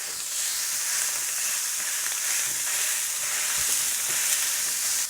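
A flat iron steak sizzles loudly and steadily in a very hot pan as it is pressed down, a dense continuous frying hiss with no talk over it.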